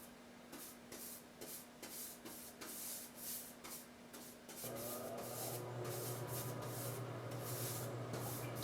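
Paintbrush working primer onto the pop top of a Volkswagen Vanagon Westfalia, a quiet close rhythmic scrubbing of bristles in steady repeated strokes against a faint hum, with no talk.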